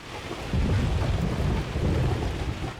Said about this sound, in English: how cool is it that you're playing on a ship at sea in the middle of a crazy storm?